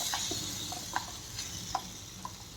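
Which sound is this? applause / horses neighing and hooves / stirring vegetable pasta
stirring vegetable pasta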